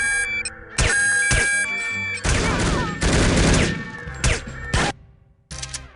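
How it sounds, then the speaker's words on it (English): Full automatic gunfire in No One Lives Forever, loud bursts of rapid shots separated by brief gaps, ending in a final short burst after a quiet moment. "It's amazing how fast they go from "Did you hear that?" to full automatic shooting."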